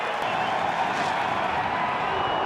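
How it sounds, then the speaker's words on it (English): Crowd at the Adelaide Oval during a cricket match, a steady wash of cheering and roaring that holds without a break. "And the crowd going wild, the Adelaide Oval"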